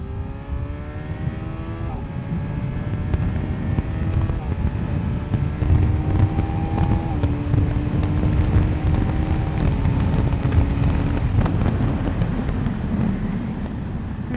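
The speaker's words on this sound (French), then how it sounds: "Je peux faire des downshift de fou." A 2025 Kawasaki Z900SE motorcycle runs through gear changes, its engine note stepping up in pitch and dropping back several times as it accelerates, heard up close with steady wind rush throughout.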